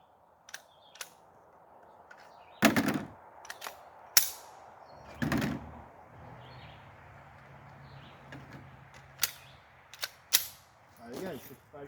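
Glock pistol shots fired outdoors at 65 yards, several sharp cracks spaced irregularly, loud and near, with quieter clicks and handling noise between them.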